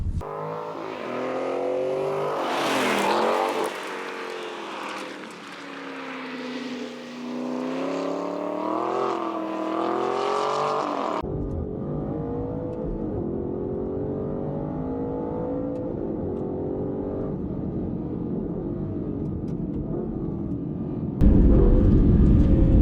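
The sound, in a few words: Aston Martin Vantage N430 sports car driving, engine revving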